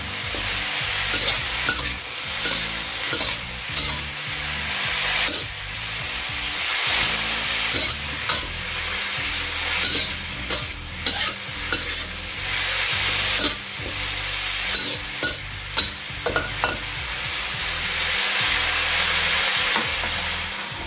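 Mushrooms and egg stir-frying in a pan with chili, loud continuous sizzling and hiss broken by frequent scraping stirs of the spatula, close and without talk.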